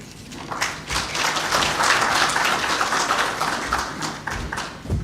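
An audience claps at a Nairobi launch of a national policy against alcohol and drug abuse, a broad wash of many hands swelling and holding steady for several seconds before thinning out, with a few sharper taps standing out.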